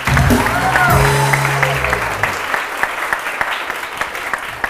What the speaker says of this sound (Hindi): एंड ऑफ कोर्स बहुत सारी तालियां दरक्षा ताहिर के लिए